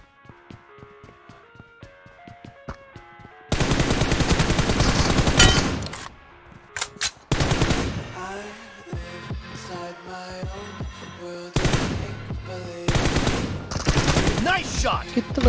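Bursts of gunfire from the mobile battle-royale game PUBG Mobile, loud automatic volleys in several stretches separated by quieter game music and effects, with no talk.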